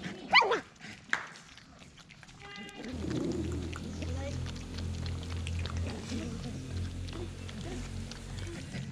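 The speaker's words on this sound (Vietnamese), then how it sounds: "đây là chó mẹ nha để bảy con chó con" Mother dog with a litter of seven newborn puppies of identical color, yapping and barking briefly in the first moments, then a steady low hum with people talking over it.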